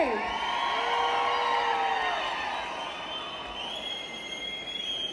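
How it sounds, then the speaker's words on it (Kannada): A mall audience at the MAX success meet for Kichcha Sudeep cheers loudly, with long rising and falling whistles and whoops over a steady crowd roar. "ವಿಜಯ್ ಕಾರ್ತಿಕೇಯ ಸರ್ ಅವ್ರಿಗೊಂದ್ಸಲ ಜನ ಚಪ್ಪಾಳೆ"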